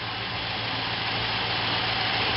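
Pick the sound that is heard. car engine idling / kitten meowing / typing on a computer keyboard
car engine idling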